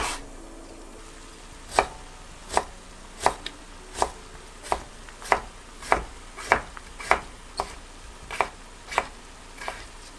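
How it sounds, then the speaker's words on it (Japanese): A kitchen knife chops daikon radish into small pieces for a Japanese dish, giving about fifteen crisp, evenly spaced knocks on a cutting board, close and clear with no talking. "大根も山芋と同じぐらいの大きさに切っておきます。"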